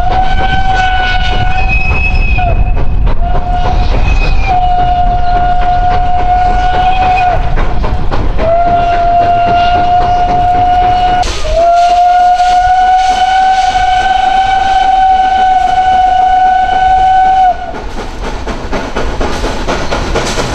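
A steam train on a Slovak line near the Belianský viadukt sounds a long, loud whistle held for many seconds at close range while the engine chugs and the wagons rumble beneath it.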